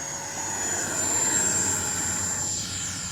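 A FlyFans L-39 Black Diamonds RC model jet takes off with a steady, continuous turbine whine and rushing roar that swells slightly mid-clip, heard from a moderate distance with no talking.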